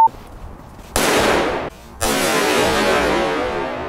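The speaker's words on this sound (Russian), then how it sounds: "следующим будем взрывать вот эту вот коробочку, она из алюминия, видимо, она легкая такая" A Korsar 12 firecracker blows up beneath a light aluminium box, two loud close blasts a second apart, each a broad roaring crack that decays into rumble and rattle.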